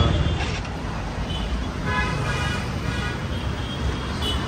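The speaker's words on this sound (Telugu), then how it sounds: "Dhaka the city of traffic." Dense city street traffic in Dhaka, Bangladesh, a steady roar of engines with repeated car horns honking through it, loud and continuous, with voices faintly mixed in.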